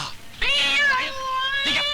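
A cat meows in a Hindi film scene, one loud, close, drawn-out wavering meow followed by a shorter second cry, with no talk over it.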